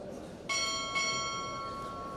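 At a Navy chief petty officer pinning ceremony, a ship's bell is struck twice in quick succession, two bright metallic rings half a second apart that hum and fade against quiet room tone.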